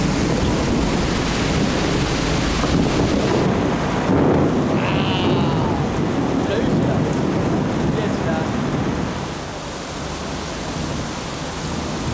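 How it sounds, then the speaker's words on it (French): Storm waves at sea batter a barge, a loud, constant roaring wash of surf and wind that eases somewhat toward the end, with a faint voice-like cry briefly over it. "La barge, bousculée par les vagues, est prise de violents tremblements"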